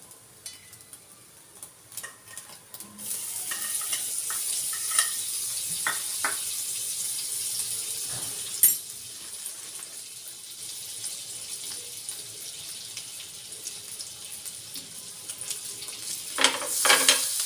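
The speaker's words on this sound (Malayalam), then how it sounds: "നമുക്ക് കുറച്ച് ബട്ടർ ഇട്ടിട്ട് നമുക്ക് ബ്രെഡ് ഫ്രൈ ചെയ്തെടുക്കാം" Bread fries in butter in a hot pan for a vegetable bread sandwich, giving a steady, close sizzle with occasional clinks and scrapes of a utensil.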